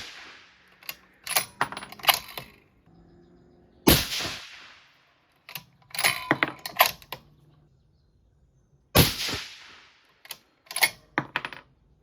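A 6.5 PRC rifle firing 147gr ELD-M rounds outdoors on a hot day produces two sharp, loud cracks with quick decay about five seconds apart, set among quieter clicks and handling noises.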